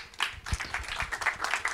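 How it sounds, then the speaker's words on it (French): A short burst of scattered hand clapping from a small group, fairly close, lasting under two seconds. "On peut l'applaudir."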